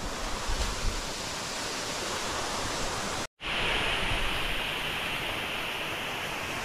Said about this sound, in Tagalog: Pwede dito waterfall